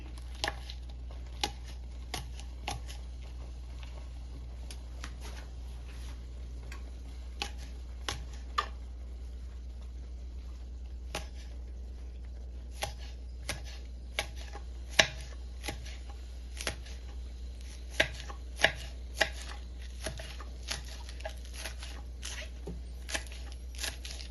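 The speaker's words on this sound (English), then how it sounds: "I'm also gonna cut up some scallion" A knife chops scallion on a board for a Jamaican dish, sparse, crisp taps scattered irregularly over a steady low hum, fairly close but quiet.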